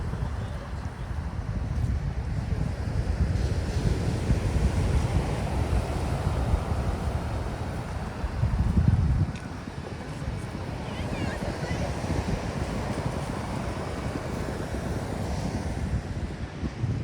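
Ocean surf rolls in continuously at a surf beach in Sochi, Adler, a broad wash of breaking waves mixed with wind buffeting the microphone, steady and fairly loud for the whole stretch.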